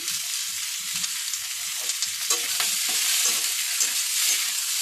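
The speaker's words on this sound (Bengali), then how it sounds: "এটা একটু হালকা ভাজা ভাজা করে নেব।" Chopped tomato and potato frying in fish oil, a continuous bright sizzle with soft scraping stirs scattered throughout, moderately close and fairly quiet.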